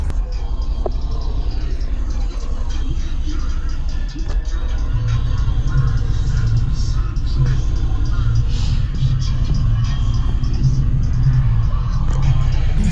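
SMD subwoofer being broken in on an AK amplifier, a loud, continuous low rumbling drone that throbs steadily throughout, with faint voices in the background.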